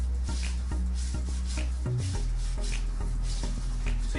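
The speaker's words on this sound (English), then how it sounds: "So this is the baking pan, and I'm going to grease it with the remains of batter." Leftover carrot cake batter is spread to grease a baking pan, giving soft repeated rubbing and scraping strokes, close and quiet, with faint low background hum.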